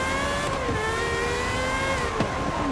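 A Gordon Murray T.50 in the racing game Forza Horizon 5 gives off a steady whir from its fan. The tone holds a faint pitch shift against a constant engine hum, with no one speaking.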